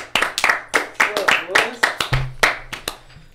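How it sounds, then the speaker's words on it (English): A crowd in a podcast studio claps for Pat, a quick run of sharp, close hand claps in a steady rhythm, with voices calling out underneath. "Let's give him some claps."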